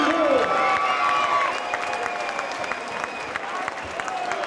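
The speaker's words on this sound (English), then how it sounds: "Here we go, big round of applause." Arena crowd applauding and cheering after a boxing fight, a dense, steady wash of clapping throughout with whistles and shouts, under an announcer's amplified voice.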